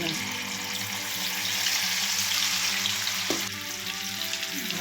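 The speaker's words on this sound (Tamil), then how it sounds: "இது மாதிரி எல்லாத்தையும் ஒரு ஈடும் பொரித்து எடுத்து வச்சுக்கோங்க" Batter-coated cauliflower florets deep-frying for gobi manchurian, a dense continuous bubbling sizzle of oil heard up close, steady throughout with a faint clink partway through.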